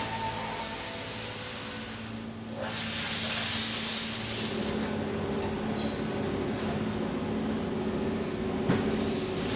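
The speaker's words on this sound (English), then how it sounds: "The surface grinding is an important step depending on how thick your steel is." A surface grinder working 1095 high carbon steel knife blanks in a knife shop, starting as a low machine hum, then a loud hissing abrasive rush that settles into steady grinding with a faint knock near the end.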